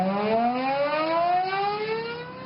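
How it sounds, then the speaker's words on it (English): The old Ford factory shift siren in Belterra, Brazil, once marking the start and end of shifts, wails loudly on its own as a sustained, slowly rising multi-tone howl that fades a little toward the end. "3 times a day the siren that used to go off. Marking the beginning and end of shifts"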